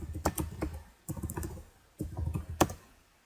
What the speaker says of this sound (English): Just gonna quickly type it down here.